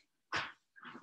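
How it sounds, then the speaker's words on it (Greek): A pet dog barks indoors at home, giving two short, faint, muffled barks with a pause between them. "φωνάζει ο σκύλος μου, θα κλείσω την πόρτα."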